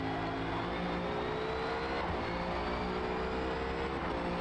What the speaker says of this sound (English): Great sounding engine though. Absolute brilliant soundtrack, and it revs to oblivion.